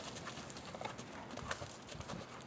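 Horse hooves step on the ground during a crossover groundwork exercise, a faint irregular clip-clop of several footfalls heard at a distance.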